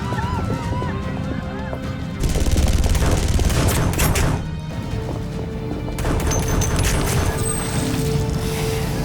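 Gunfire in a chaotic armed confrontation, with bursts of repeated shots and sharp cracks under shouting voices and loud background commotion.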